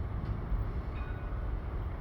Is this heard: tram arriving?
yes